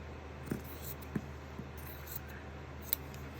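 Scissors snip through quilt fabric during fussy cutting for an English paper piecing Tumbling Cosmos quilt, giving a few faint, separate clicks and snips over a low steady hum, with no voices.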